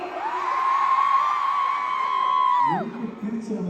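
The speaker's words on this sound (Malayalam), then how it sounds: "സ്ത്രീകൾ മാത്രം ഇച്ചിരി ബഹളം" Women in a concert audience in Salalah let out a loud, high, sustained collective scream and whoop that holds for a few seconds, then drops away into scattered lower voices.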